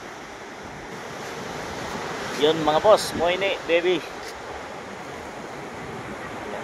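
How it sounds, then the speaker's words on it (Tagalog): Strong ocean waves break at a beach, a constant roaring wash of surf with wind buffeting the microphone, while someone speaks briefly partway through. "talagang malakas lang yung alon"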